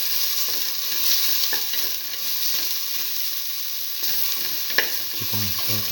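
Black lentil and ash gourd stew with garlic sizzles steadily in a pan, with occasional stirring scrapes and clinks over the constant frying hiss.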